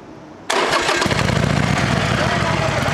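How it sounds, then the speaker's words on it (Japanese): A 2015 Harley-Davidson Sportster Forty-Eight XL1200X fires up abruptly after a quiet half second, then settles into a loud, close, steady rumble that fills the rest of the clip. "エンジンかけてもらえますか。"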